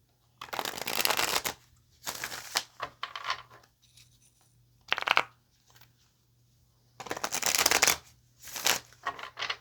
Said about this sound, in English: Let's get a couple more good shuffles here.